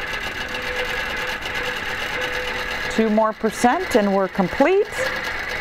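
A QBOT robotic quilting machine hums steadily as it stitches a large meander stippling design on a quilt, and a voice then speaks over the running motor.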